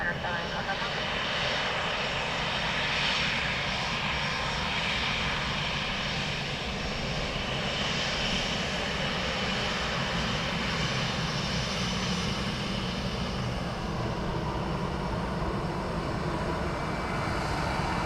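An airliner lands at Dublin Airport with a continuous, heavy engine roar that stays steady for the whole stretch. Voices talk over the noise throughout.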